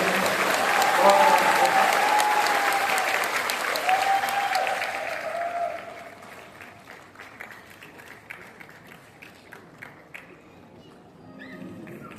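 Loud sustained applause from a concert audience at a music tribute event, a dense wash of clapping that fades after several seconds into scattered claps, with a voice speaking over it.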